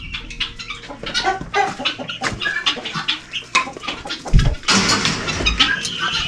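Mixed laying hens in a farm pen cluck and squawk busily close by, a dense overlapping chatter of bird calls with rustling, a thud and a rumbling engine swelling toward the end.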